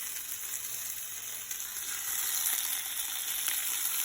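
Chopped tomato fries in a pan for a chutney, giving a steady hiss of sizzling that swells slightly midway, close and continuous with no talk.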